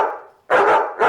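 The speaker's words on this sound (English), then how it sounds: "the family's other dog." In a read-aloud children's story, a dog gives a drawn-out, fading bark, then two sharp, loud barks close at hand, with no voices over them.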